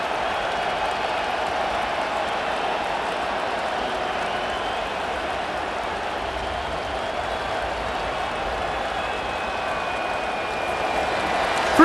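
Steady roar of a stadium crowd in Madden NFL 25, Cincinnati Bengals at Baltimore Ravens, a broad continuous wash of cheering held at an even level throughout with no distinct individual voices.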